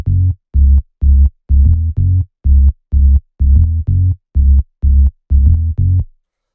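A simple, repetitive deep minimal house bass line: short, rounded low notes in a steady grooving pattern, a dozen or so plucks with slight swing, playing alone without drums.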